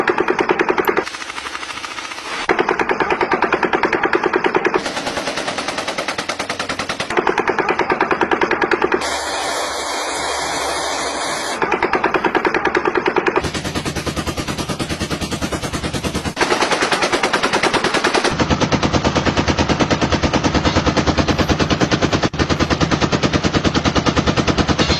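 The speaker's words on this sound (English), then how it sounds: "Those are like Gatling guns. Machine guns, yeah." Recorded machine gun fire played in a sound comparison, rapid sustained bursts in a dense rattling stream, switching between several loud segments with short changes in character.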